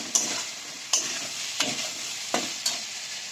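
Pointed gourd (potol) is stir-fried in a pan with cooked dal nearby, a constant oily sizzle broken by five sharp scraping strokes of a spatula at a slow, uneven rhythm, close and fairly loud with no talking.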